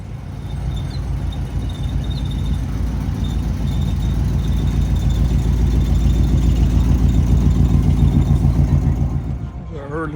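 Early 1970s Chevrolet Camaro at an outdoor car show, its engine idling with a loud, steady low rumble that continues alone for most of the time before cutting away at the end.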